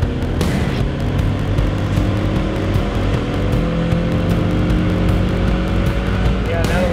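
A 2015 Ford Mustang with the 2.3L EcoBoost engine fires up and runs on a dyno, a loud, steady mechanical drone with a constant low rumble that fills the whole stretch.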